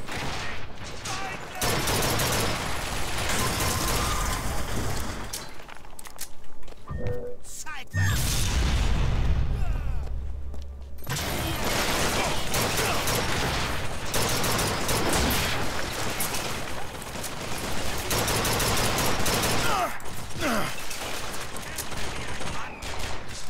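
A gun turret in BioShock Infinite fires dense, sustained rattling bursts with booming impacts, broken by short gaps, while a voice talks now and then over the shooting.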